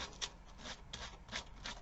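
Quiet, steady scratchy rubbing with soft rhythmic strokes of a small scrap of sandpaper worked back and forth over a surface.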